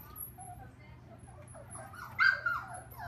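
Dogs whimper and yip faintly indoors in short high whines, quiet and intermittent, with a couple of louder cries near the end over low background hum.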